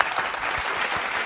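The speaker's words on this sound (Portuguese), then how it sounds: "palmas!" Brief burst of applause greeting a guest on a Brazilian podcast, a dense close-up patter of clapping hands over a few low thumps.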